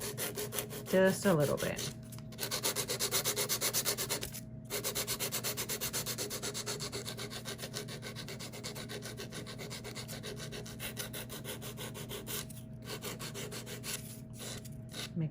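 A coarse nail file rasps steadily across a natural fingernail to reshape it, in close, continuous back-and-forth strokes broken by short pauses, with a brief soft spoken comment near the start.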